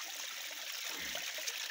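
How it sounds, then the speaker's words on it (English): Natural water source in a Rwandan village, flowing steadily as a soft continuous stream or trickle, moderately close, with no talk over it. "So this is a natural place where we can get water from in our village."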